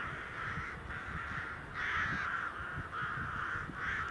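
Crows caw repeatedly in a steady sequence of harsh calls outdoors, a flock of around seventy birds with pigeons flying among them, loud and fairly close with no one talking.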